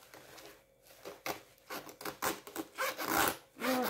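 A bag zipper that snags a little is worked back and forth in a series of short, rasping pulls that grow louder toward the end, close and with no voices.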